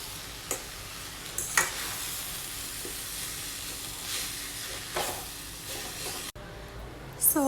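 Drumstick leaf fry is stirred with peanut powder in a hot pan, giving a soft continuous sizzle with intermittent scraping and stirring taps from a spatula, close by.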